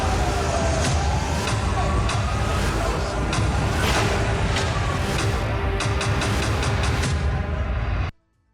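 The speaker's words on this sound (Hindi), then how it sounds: "इस वक्त लगातार देखिए सायरन बज रहा है।" A siren sounds continuously during a rocket attack in Israel, a loud, steady wail over dense street and traffic noise with scattered clicks, cutting off abruptly near the end.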